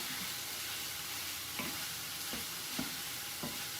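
Red onion cooks in a skillet with a steady, broad sizzle and a few soft stirring knocks as the pieces are moved around, close and even throughout with no talk.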